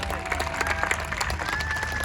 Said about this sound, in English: put your hands together for a big round of applause